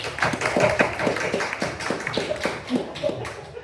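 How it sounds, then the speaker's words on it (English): An audience claps for a woman called to the podium at a gathering, with a sparse, uneven patter of hand claps going on steadily throughout at moderate volume. "y'all give a round of applause"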